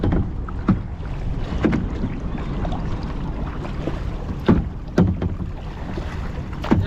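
A kayak on the water at Al Majaz, Sharjah, with paddle strokes dipping and splashing at irregular intervals over a constant rush of wind and lapping water.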